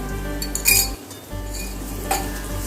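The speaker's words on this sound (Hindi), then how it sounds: "अभी धीमी आंच में इसको मैं मिला लूँगी" A spoon scrapes and clinks against a pan while cream is stirred into egg korma masala over low heat, with soft metallic taps and a faint sizzle underneath.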